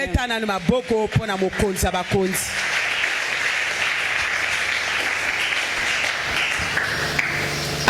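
A church congregation breaks into sustained applause after a sung or spoken exchange, dense clapping holding steady and fairly loud until the end, with voices briefly heard before it starts.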